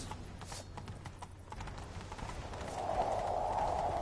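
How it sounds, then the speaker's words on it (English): A horse galloping in The Witcher 3 video game, rapid rhythmic hoofbeats thudding steadily and growing louder, with faint game ambience and no speech. "Grab a horse, we'll chase him down"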